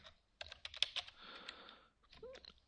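Rapid typing on a computer keyboard while writing code for an image gallery, a short burst of close key clicks that pauses briefly and then resumes.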